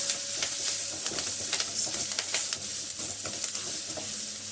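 Asafoetida and slit green chillies fry in hot oil for an Andhra-style greens dal, giving a dense continuous sizzle and spatter with a few stirring scrapes, close and fairly loud, with no talking.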